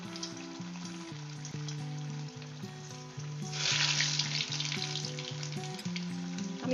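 Chicken chops frying one at a time in hot oil in a wok, a steady close sizzle that swells louder midway as more pieces go in, with no talking.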